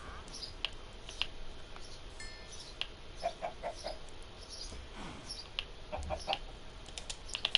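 Chickens clucking in Minecraft on PS4, vanilla survival mode: scattered short clucks and chirps repeat near and far over a faint steady background, with no talk.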